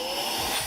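Meco Eleverde compressed air duster and mini vacuum cleaner running in vacuum mode, a steady, close, high-pitched motor whine with a constant airflow hiss and no talking.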